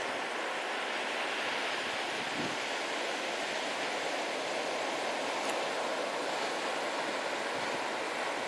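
Ocean surf at Imperial Beach rolls on as a steady, broad wash of noise for the whole stretch, with wind mixed in and no voices.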